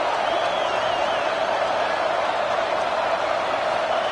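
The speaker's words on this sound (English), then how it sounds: "Listen to the crowd energy here in the early going." Stadium crowd in College Football 26, a steady, dense roar of cheering fans that holds at an even level throughout and stays on its own without clear talk.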